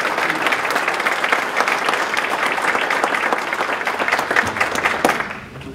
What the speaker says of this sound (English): whether we could just all together join with me in applause thanking Elena for all of her incredible work